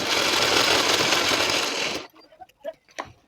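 A sewing machine runs steadily for about two seconds, stitching a half-inch folded tuck into a princess-cut blouse, then stops, leaving a few soft clicks and handling sounds.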